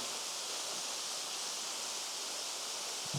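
Big Lee's Waterfall in Ayrshire pours in a steady, dense hiss from near its top, a continuous broadband roar with no voices over it.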